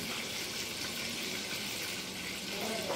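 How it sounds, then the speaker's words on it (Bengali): Panch phoron five-spice seeds tempering in hot oil for a prawn malai curry give a close, steady, loud hiss of sizzling and fine crackling that runs unbroken for the whole stretch, with no voices. "তেল গরম হয়ে গেছে, ফোড়ন দিয়ে দেবো 5 ফোড়ন"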